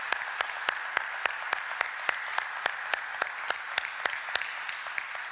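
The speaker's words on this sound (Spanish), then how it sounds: "Quiero pedir a la audiencia que les ofrezcamos un caluroso aplauso" An audience applauds panelists at the end of a meeting, heard as evenly spaced, crisp claps in a steady rhythm, fairly quiet and without talk.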